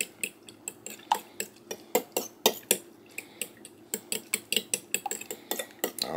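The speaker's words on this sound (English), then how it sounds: "So I'm going to add 1/4 cup of milk to those 6 eggs. We're going to whisk that in." A quarter cup of milk is whisked into six eggs in a bowl, giving a quick, steady run of sharp metallic clicks and taps as the whisk strikes the sides, close up with no talking.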